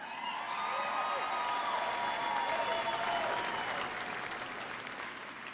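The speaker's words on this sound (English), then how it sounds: "You can applaud." Sustained applause from a large audience at a 2023 Park High School graduation ceremony in Minnesota, steady and dense throughout, with faint cheering whistles and voices rising in the crowd.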